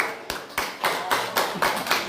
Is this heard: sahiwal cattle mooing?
no